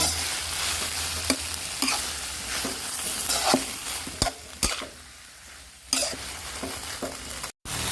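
Stirring and mixing sugar into a stir-fry of Chinese kale with canned fish in a hot pan, a steady sizzle under repeated scraping strokes of the utensil, close and fairly loud, with no one talking.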